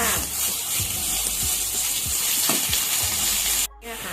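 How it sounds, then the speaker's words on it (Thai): Chili, garlic and pork are stir-fried in a pan for a holy basil and cauliflower dish. A loud, continuous sizzle runs close throughout, broken by repeated scraping strokes from the stirring, then drops away suddenly just before the end. "พริกกับกระเทียมใส่ลงไปเลยจ้า ผัดให้หอมๆเลยนะจ๊ะ หมูใส่ลงไปเลยจ้า"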